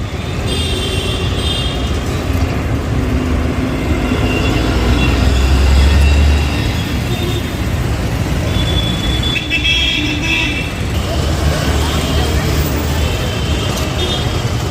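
Local, express, AC and deluxe buses pull out of Rajkot bus port, their diesel engines rumbling heavily and continuously amid station bustle, with a louder low drone near the middle and faint voices in the background.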